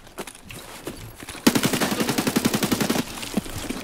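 Shotgun fire in the shooter game Escape From Tarkov: a loud, rapid run of evenly spaced shots lasting about a second and a half, framed by a few softer, scattered reports before and after.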